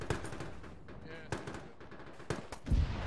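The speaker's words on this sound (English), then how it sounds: "Shooting another shot." Several gunshots in a military video game, sharp cracks spaced irregularly with a heavier boom near the end, heard under radio-style voices talking.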